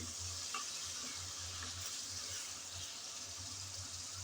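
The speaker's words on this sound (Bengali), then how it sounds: "আমি নেড়ে চেড়ে একটু ভালোভাবে কষিয়ে নিচ্ছি।" Spice paste fries in hot oil with a steady, close sizzle and bubbling, while a utensil stirs and scrapes it softly through the pan in a continuous hiss without speech.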